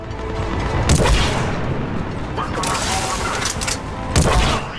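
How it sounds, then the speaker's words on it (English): Heavy cannon fire in the Mass Effect 3 video game: loud booming blasts at about one second and again near four seconds over a dense, continuous rumble of combat noise. "Cannons initializing."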